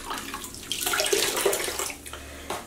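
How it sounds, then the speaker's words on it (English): Tap water runs steadily into a sink or tub while hand-dyed yarn is rinsed clean of soap, a continuous broadband splashing that swells and eases, fairly close and with no talk. "I am at this stage going to keep rinsing a little bit more to rinse the soap out"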